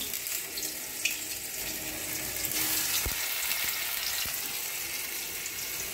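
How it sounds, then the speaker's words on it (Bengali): Pieces of dhoka, a lentil cake, frying in hot oil in a kadai, a dense bubbling hiss with a few soft thuds as pieces drop in, steady and fairly close. "দেখুন তেলটা আমার গরম হয়ে গেছে। এবারে আমি আস্তে আস্তে ধোকার পিসগুলো দেখুন কীরকম ছেড়ে যাচ্ছে।"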